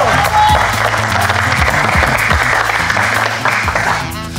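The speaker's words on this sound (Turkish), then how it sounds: "Ayfer hocamıza da lütfen bir alkış alalım." An audience applauds a dancer named Ayfer, dense sustained clapping from a crowd with music and voices mixed underneath, loud and continuous throughout.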